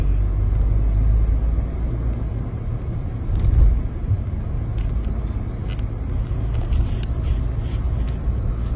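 A car driving along a road in India, its engine giving a steady, loud low rumble from inside the cabin, with road noise throughout and a brief swell partway through.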